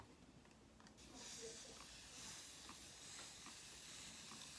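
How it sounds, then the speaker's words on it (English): A handheld spray bottle mists black rice water onto natural hair, giving a steady continuous hiss that starts abruptly and holds at moderate, close level without pause. "It's like a mister."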